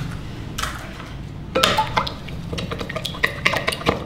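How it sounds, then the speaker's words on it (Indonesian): A single egg whisked in a bowl for a flour-based recipe: light wet clinks and rapid irregular tapping of a utensil against the bowl, starting sparse and growing busier, close by, with no talking. "Kita kocok dulu 1 butir telur."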